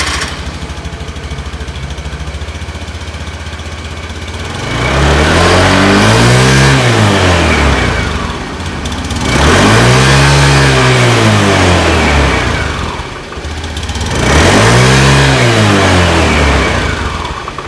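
A Honda Beat scooter engine idles, then revs up three times in long swelling pulls, each rising and falling back, with a fairly mild, stock exhaust note.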